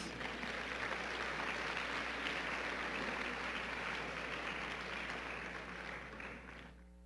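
Steady applause from a large church congregation fills the space, a dense wash of clapping that holds evenly and fades slightly at the end.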